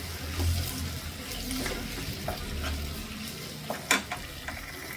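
Tomatoes soften in a pan for okra palya, a steady broadband sizzle running throughout with soft stirring and a few sharp utensil clicks near the end, fairly close, with no voices.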